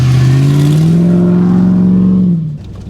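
A loud V8 engine in a Land Rover Discovery fitted with an illegal exhaust revs up and holds a deep, rumbling exhaust note close by, then drops off sharply as the throttle is released.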